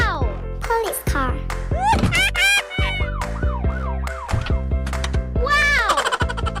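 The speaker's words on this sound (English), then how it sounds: "Police car." A toy police car siren wails loudly and close in rapid rising and falling electronic sweeps, mixed with chirpy toy effects, while someone speaks excitedly over it.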